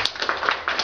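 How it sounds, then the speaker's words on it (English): Audience members at a motivational talk clap in a brief, close burst, with a handful of distinct sharp hand claps over a fast, uneven patter. "Please clap."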